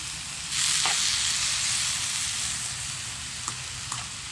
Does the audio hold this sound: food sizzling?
yes